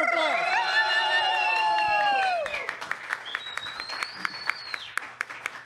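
An audience bursts into applause and cheering at a live comedy podcast show, starting under sustained tonal sound that fades, then thinning into scattered individual claps toward the end.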